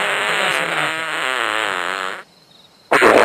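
A long, loud fart sound effect in a Haryanvi comedy film, a rippling buzzy blast lasting about two seconds before a brief silence and another noisy burst.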